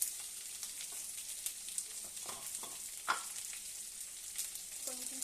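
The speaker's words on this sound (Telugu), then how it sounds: "కరివేపాకు, పచ్చిమిర్చి, ఉల్లిపాయ ఇవి కొంచెం ఇలా వేగినాయి కదా, ఇవి కొంచెం బాగా వేగాలండి" Curry leaves, green chilies and chopped onion fry in oil in a pan for an aloo tomato curry, giving a steady close sizzle with occasional scraping stirs and soft pops.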